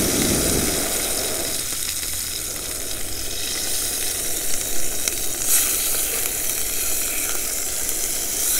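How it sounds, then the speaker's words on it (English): Fish fries in hot oil in a cast iron back country skillet, making a dense, even sizzle that runs close and steady throughout. A few faint crackles and pops rise from the spitting oil. "Fish is cooking up nicely."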